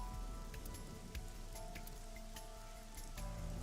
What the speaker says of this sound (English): This rain is awful, huh?